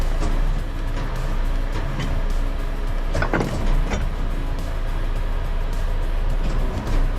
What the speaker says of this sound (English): Forks in position. Now we're going to lift the vehicle up.